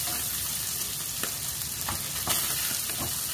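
Onion sizzles steadily in a hot pan as it is stirred and sautéed without oil for ginisang ampalaya, with close, continuous frying crackle and occasional scraping stir strokes, no voices.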